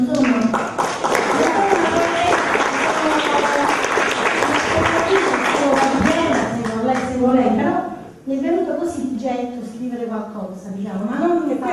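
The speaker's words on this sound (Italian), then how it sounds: "Un applauso alla nostra icona" Audience applause at a cake competition evening fills the hall steadily, with loud sustained clapping through most of the stretch, then a brief dip before a voice speaks over the room.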